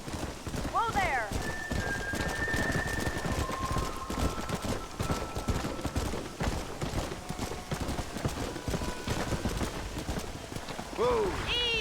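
Steady rain falls in Red Dead Redemption, a wash of noise under horse hooves, whinnies and voices talking, with the hoofbeats and speech often more prominent than the rain.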